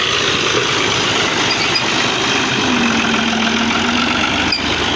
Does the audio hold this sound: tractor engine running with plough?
yes